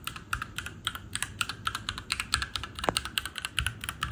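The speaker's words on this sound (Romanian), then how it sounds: "Hai să auzim sunetul tastelor." Typing on a Keychron Q1 v2 Knob Edition mechanical keyboard with stock switches produces a fast, irregular run of crisp, close keystrokes that continues steadily for about four seconds with no talking.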